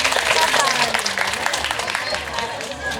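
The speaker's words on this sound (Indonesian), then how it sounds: "kita berikan tepuk tangan sekali lagi untuk pemateri kita pada pagi hari ini" Audience applause at a school parenting and programme-introduction event at an Islamic primary school, a dense, steady wash of many hands clapping that fills the clip and tapers slightly toward the end.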